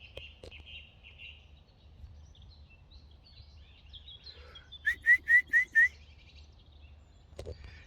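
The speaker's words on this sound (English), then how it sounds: "Absolutely no traffic noise, zero. All you can hear are birds." Quiet outdoor ambience with scattered bird chirps, then a bright burst of five quick rising whistled notes, evenly spaced, with faint rustling at the end.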